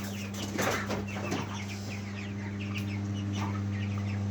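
A rooster and several chickens cluck and chatter continuously at close range over a steady low mechanical hum.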